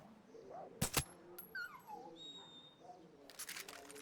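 A dog in the Far Cry 6 video game whimpers and yips in thin, high, falling whines, a few short cries spread over several seconds amid game sounds, with sharp clicks at the start and end.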